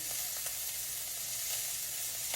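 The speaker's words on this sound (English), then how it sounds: "Brenda Gantt, you have got your skillet too hot, darling." Hamburger steak patty sizzles steadily in an overheated skillet, a continuous dense hiss of frying fat that stays moderately loud and even throughout with no talking.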